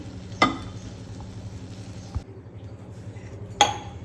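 A metal pot is set down on a stove with a sharp clank, followed later by another clink as sugar goes in to make syrup for badusha, with a low steady background hum.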